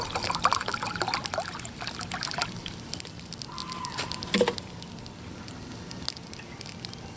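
Two cups of water poured out in the woods for a boil test on a Bearded Woodsman twig stove, a continuous close trickling and splashing with crackling underneath, steady throughout.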